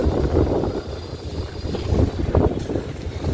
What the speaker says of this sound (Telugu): చుట్టూరు వాతావరణం అయితే ఇలాగ ఉంటుంది, చల్లగా గాలి